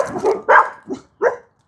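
Dogs barking outdoors on a cold day near a burning scrap-wood fire, a few separate loud barks spaced across under two seconds, close by.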